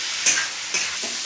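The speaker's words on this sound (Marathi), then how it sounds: "चांगला परतून घ्यायचा, छान गुलाबी रंगावर परतून घ्यायचा।" Onion sautéing in a pan gives a faint, soft sizzle, broken by two or three quick scraping stirs of a spatula, close by and with no voices.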